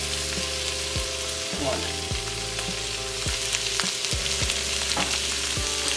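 Half an onion frying with ham in a pan of leftover rice farofa, a loud, continuous close sizzle broken by the scrape of stirring, with one brief spoken word.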